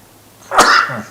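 A single sharp sneeze bursts out in a quiet council meeting room, loud and close, with a brief breathy tail afterward.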